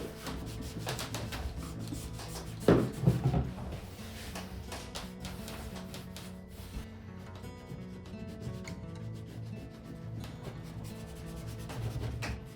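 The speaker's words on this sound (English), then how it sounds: "I'm just waxing the back of mine because I am done." Soft, continuous rubbing of a cloth applying wax onto a wooden surface, with light scratchy strokes and a few brief louder scuffs.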